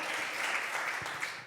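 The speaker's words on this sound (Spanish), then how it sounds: "Dale un aplauso a Cristo" Church congregation applauding during a sermon, a brief burst of steady massed clapping at moderate level.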